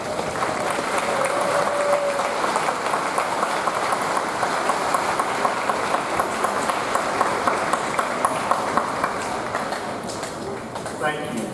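A room of students stands and applauds guests, including a lieutenant colonel, with dense, continuous clapping that holds steady throughout, crisp individual claps audible within the wash.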